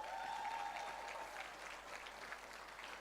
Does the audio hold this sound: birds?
no